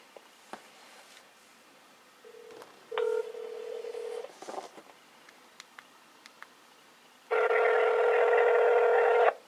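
Faint rustling, then a couple of short dial-pad beeps on a smartphone test call to Verizon Wireless, followed by a loud steady tone of several seconds, like a phone line ringing back.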